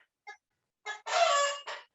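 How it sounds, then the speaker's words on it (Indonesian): Chickens on a livestock farm give a few short clucks followed by a long, loud crow and a final trailing call, close and clear with no talk over them. "ini sepertinya mengganggu nggak ini suara ayam nih."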